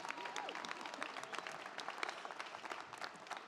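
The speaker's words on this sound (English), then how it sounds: "No need to hold your applause" A commencement audience at a drama school graduation ceremony applauds, many hands clapping in a continuous, fairly distant-sounding wash, quiet overall with a faint tonal sweep early on.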